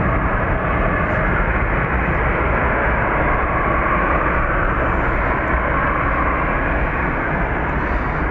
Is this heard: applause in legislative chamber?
no